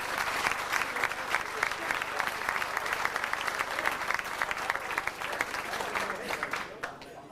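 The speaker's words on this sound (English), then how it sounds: "Give him a round of applause, please." A sustained round of applause from an audience at an 80th-birthday gathering, dense steady clapping that fills the whole stretch without speech.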